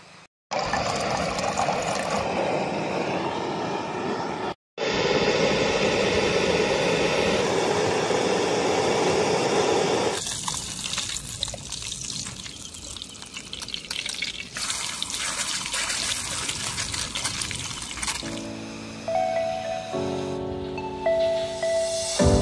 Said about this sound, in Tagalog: Ito sa inyo yung ilog dito.